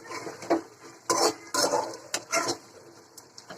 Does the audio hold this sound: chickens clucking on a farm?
no